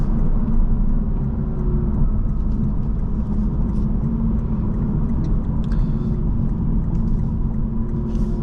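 A 2024 Lexus IS350 AWD heading onto the freeway, heard from inside the cabin as a steady low road and engine rumble with constant tire noise and no clear gear changes.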